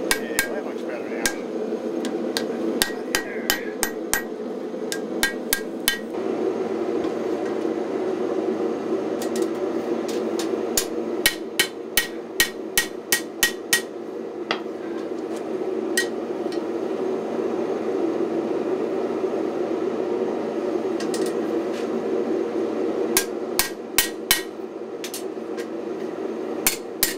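A hammer strikes 5160 spring steel on an anvil while forging a knife, sharp metallic clangs arriving in quick bursts of several blows separated by pauses, over a steady roar of the forge.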